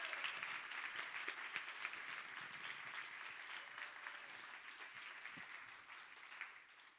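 An audience at an art and community healing event applauds the storytellers, with steady, dense clapping from many hands that holds evenly and then eases slightly, heard alone from a moderate distance.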